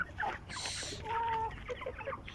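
A hen on a home poultry farm, a large bird close to laying, clucks several times in short bursts, close and moderately loud, with faint background noise.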